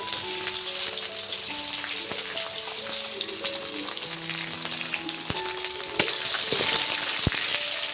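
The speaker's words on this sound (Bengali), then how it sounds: "পেঁয়াজটাকে ভালোভাবে নেড়ে চেড়ে একটু ভেজে নেবো" Chopped onions for a mutton curry sizzle steadily in hot oil on a clay stove, with occasional knocks of a spoon stirring the pan; a faint musical tone sits underneath.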